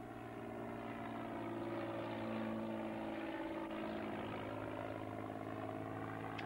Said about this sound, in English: Very manoeuvrable and very capable aircraft again